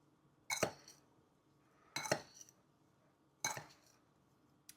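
Food being stirred together with sugar in a bowl, heard as three separate bursts of clinking and scraping spaced a second or so apart, close and fairly quiet against a silent background.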